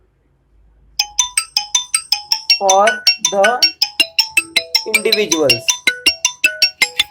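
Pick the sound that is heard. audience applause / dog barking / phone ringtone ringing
phone ringtone ringing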